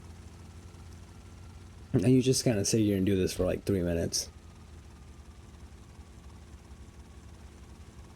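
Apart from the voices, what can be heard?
helicopter in the video game GTA Vice City Stories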